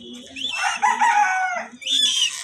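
Pet birds at feeding time let out a loud, close, crow-like call that rises and falls, with shorter chirps on either side.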